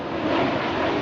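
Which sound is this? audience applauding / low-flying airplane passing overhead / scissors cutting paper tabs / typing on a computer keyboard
low-flying airplane passing overhead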